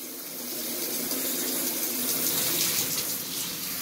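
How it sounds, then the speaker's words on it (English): Tap water runs steadily into a sink while dyed hair is rinsed, a continuous close splashing gush with no talking. "Now I've got to rinse my hair."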